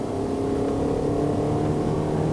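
A Toyota Estima 2.4L XR50 minivan labors uphill on the Genting climb in Malaysia, its engine droning in a steady, loud, continuous hum under hard throttle from inside the cabin.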